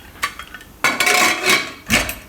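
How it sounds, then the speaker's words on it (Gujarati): A metal pressure cooker lid clanks shut in a Gujarati home kitchen while jowar raab is being cooked, with a quiet clink and then two loud, close metallic bangs and scrapes. "ને કુકરનું ઢાંકણું બંધ કરી દઉં"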